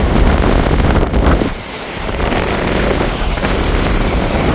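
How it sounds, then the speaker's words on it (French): Strong wind buffets the microphone on a seaside jetty, a loud continuous roar with gusty swells and a brief dip partway through. "Il y a vraiment beaucoup de vent."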